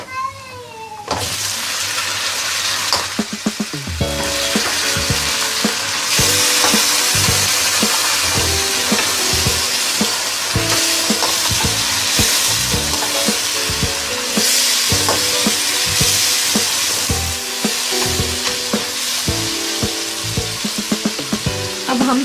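Chicken hits hot ghee and oil with browned onions in a pan, setting off a loud, continuous sizzle. Stirring clatters sound intermittently throughout, and background music plays beneath the frying.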